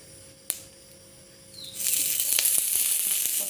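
Mustard oil poured into a hot wok with green chillies, a sudden loud hissing sizzle that swells after a sharp knock and holds steadily bright and crackling, close and alone.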